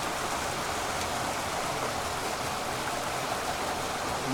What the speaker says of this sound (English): A bit more substantial waterfall here.